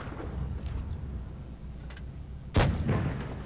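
Single tank cannon shot in World of Tanks Blitz fired from a Maus, a sharp loud boom with a short rumbling tail that stands out against steady low background noise.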